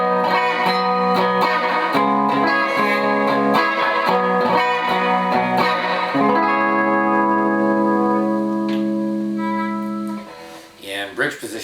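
An electric guitar with gold foil pickups in the middle pickup position plays chords and single notes with a clean, slightly hollow tone, ringing out sustained before fading, with some effects.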